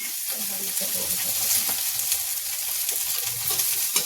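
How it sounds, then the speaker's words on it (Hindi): Food frying in a pan until crispy for a fasting-day phalahar dish, a steady broadband sizzle that holds close and even throughout with faint crackles, no voices. "ये देखिए इसको हम क्रिस्पी करारी तक फ्राई कर लेते हैं।"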